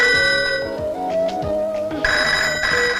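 A telephone bell rings in two bursts, shrill and close, with a short gap between them and no talking.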